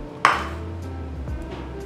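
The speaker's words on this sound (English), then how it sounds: "what will happen if I just put this in the microwave?" A microwave oven in a home kitchen gives a single short, sharp beep during Christmas cookie baking. The beep is clear against a quiet background.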